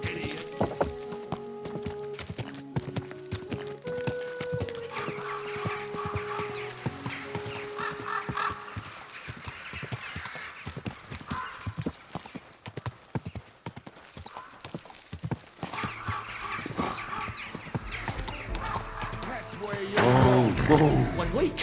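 Horse hooves clip-clop in a steady rhythmic gait in the medieval game Kingdom Come Deliverance 2, accompanied by creaking tack and jingling mechanisms, with background music and occasional voices.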